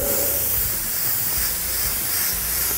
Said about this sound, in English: I'm going to spray the blue candy back on top of it